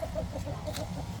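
Heritage Sussex chickens, imported from the UK, cluck softly and intermittently over a low, steady farmyard background, heard faint and at some distance.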